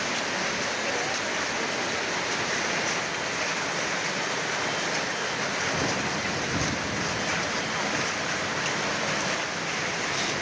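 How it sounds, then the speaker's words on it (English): Massive hailstorm pounding down in Alcarràs, Spain, with golf-ball-sized hailstones: a dense, constant roar of impacts on surfaces, loud and unbroken from start to finish. "Loud thunder and gusty winds preceded the downpour of hail"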